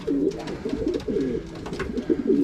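Racing pigeons cooing in a closed loft, with repeated low rolling coos overlapping continuously at close range.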